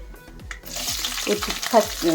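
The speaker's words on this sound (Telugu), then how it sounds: "బాగా వేగాక ఇప్పుడు ఉల్లిపాయలు, పచ్చిమిరపకాయలు వేసుకుందాం." Onions and green chillies hit hot oil in a pan for a cabbage and moong dal curry, giving a close, loud crackling sizzle with stirring scrapes that builds over a couple of seconds.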